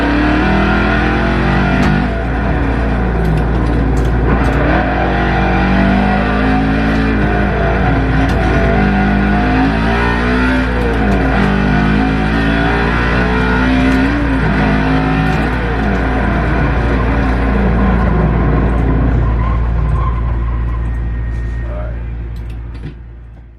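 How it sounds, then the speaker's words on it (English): Car engines from the racing game Forza Horizon 5 drone and rev loudly while cruising the streets, the pitch climbing and dropping through gear shifts before fading out at the end. "I'm playing Forza Horizon 5 and I'm just messing around, driving around on the streets and just cruising around in different cars."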